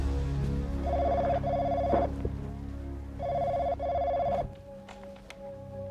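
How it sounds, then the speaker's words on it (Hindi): A telephone rings indoors in a domestic scene from a drama series, two clear bursts of a trilling electronic ring separated by a pause, moderately loud over a soft background hum. "मैं देखती हूँ, मेरा फोन होगा।"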